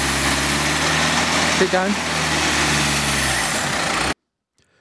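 A 4WD truck engine laboring under load with traction control, a steady loud droning rumble that cuts off abruptly near the end, with a brief spoken word over it.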